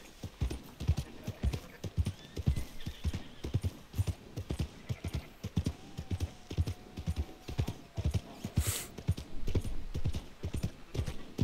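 Horse hooves clip-clop in a steady, brisk rhythm in Red Dead Redemption 2, close and clear throughout, with a faint snort near the end.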